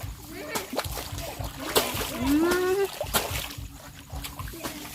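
Water splashes and trickles as it is poured for hand washing outdoors in a rice field, irregular wet splatters close by, with someone talking over them.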